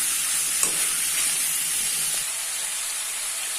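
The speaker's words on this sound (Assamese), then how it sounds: "এই মাংসখিনি মই 2-3 মিনিট বা হাৰ্ডলি 5 মিনিট ফ্ৰাই কৰিম" Pieces of chicken meat fry in a pan for a curry, giving off a steady, close hiss and crackle of sizzling oil with faint stirring scrapes and no talking.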